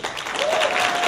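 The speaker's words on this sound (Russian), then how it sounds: "Давайте еще раз, мои аплодисменты вам." An audience applauds at a live stage event in Voronezh, with dense, steady clapping filling the hall for about a second and a faint sustained tone running beneath it.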